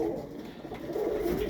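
Birmingham roller pigeons coo softly inside a wooden kit box, with two low, rolling coos close by against a quiet background.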